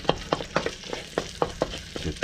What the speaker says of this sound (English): Now we're gonna saute up some onions.